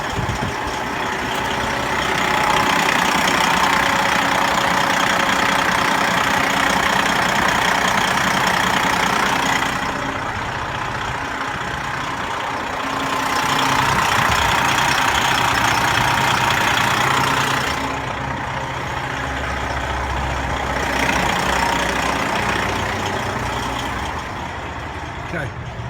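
A 2016 Freightliner Columbia Glider truck idles with its hood open, a steady heavy diesel rumble and broadband engine noise that swells and eases slightly over about half a minute, close and continuous.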